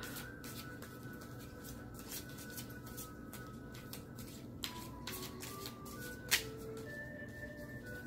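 An oracle card deck being shuffled by hand, giving a soft, steady papery riffle and rub that runs continuously at close range against a quiet room, with a couple of small sharper clicks near the end.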